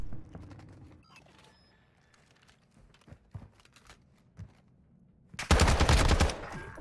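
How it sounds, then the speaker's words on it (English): Gunfire from a video game round, with scattered shots and clicks early on, then a loud, dense burst of rapid machine-gun fire near the end. "that gun is so good"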